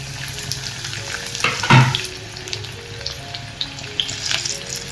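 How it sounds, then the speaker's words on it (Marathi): Chopped onion dropped into hot oil in a kadai, giving a sudden loud sizzle burst that settles into steady crackling frying with occasional stirring scrapes. "तेल चांगलं गरम झालं की आपण त्याच्यात थोडासा कांदा घालूया।"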